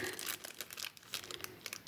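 Thin plastic packets holding crochet supplies crinkle and rustle up close in quick, irregular bursts, with no talking.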